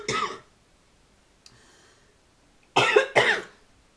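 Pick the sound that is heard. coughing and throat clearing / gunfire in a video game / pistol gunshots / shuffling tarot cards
coughing and throat clearing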